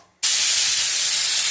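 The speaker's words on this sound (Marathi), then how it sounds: "कुकरची तिसरी शिज चालू आहे" A pressure cooker lets out its third whistle, a sudden loud, steady hiss of escaping steam that bursts in after a brief quiet moment and holds strong to the end.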